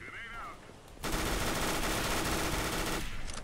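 Sustained automatic gunfire from Counter-Strike: Global Offensive erupts after a quiet second, a continuous loud rattle of shots lasting about two seconds before cutting off.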